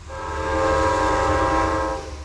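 A Metro North train led by Penn Central Heritage Unit 217 sounds its horn at Merritt 7 station in the rain, one sustained chord lasting about two seconds over low engine rumble.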